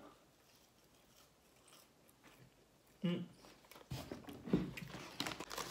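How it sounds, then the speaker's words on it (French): Someone biting and chewing a KFC wrapper with raclette filling, quiet at first, then a sudden close crunchy bite followed by louder wet chewing. "je vais finir cette bouchée"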